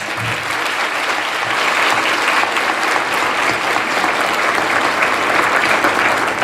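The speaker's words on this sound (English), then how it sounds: "give Alicia a round of applause" Sustained, dense applause from a banquet audience at a chamber of commerce dinner, honoring a staff member; steady and loud throughout with no gaps.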